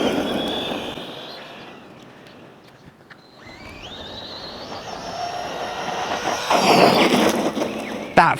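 MJX 10208 RC car driving, its small electric motor whining and rising in pitch as it speeds up, wheels rumbling over rough ground, fairly close and moderately loud.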